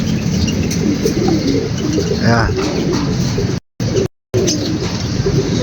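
Racing pigeons coo at a pigeon loft as they return, one clear rolling coo standing out over a steady hum, with someone speaking briefly nearby.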